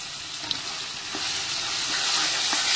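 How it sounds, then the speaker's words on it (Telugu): Ground mango-ginger pickle dropped into a hot pan, setting off a steady, close sizzle and hiss that swells and grows louder as it keeps frying. "సో ఇప్పుడు కొంచెము మనం పట్టిన పచ్చడి వేస్తున్నాం"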